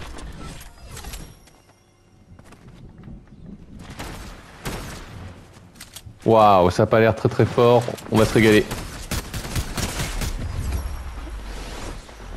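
Gunfire in the battle royale game Fortnite: scattered shots early on, then a denser volley of loud cracks toward the end, with excited French voices talking over the middle stretch.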